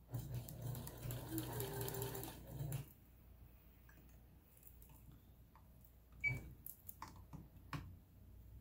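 A Kenmore Sensor Sew 70 sewing machine runs steadily for about three seconds during maintenance, a close whirring stitch, then stops and gives way to scattered clicks and mechanical handling noises.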